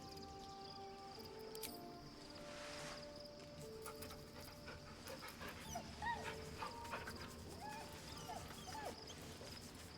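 A dog whimpers and yips softly within a video game scene, the small cries mixed into a busy game soundscape with faint background tones.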